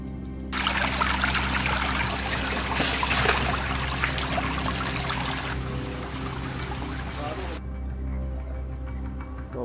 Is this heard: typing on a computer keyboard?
no